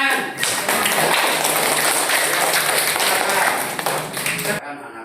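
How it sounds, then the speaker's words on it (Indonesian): Schoolchildren in a classroom clap together in a dense, lively burst of applause that holds steady for several seconds before stopping abruptly, with a few voices faintly audible afterwards. "Tepuk tangan."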